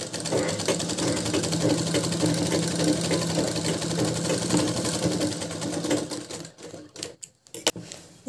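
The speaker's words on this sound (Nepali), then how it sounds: "सुरुमा यसरी सिलाउँदै सिलाउँदै अर्को छेउसम्म ल्याइपुर्याउने।" Sewing machine stitching lungi cloth, a loud, steady mechanical whir running continuously for about six seconds before breaking into a few short bursts and pauses.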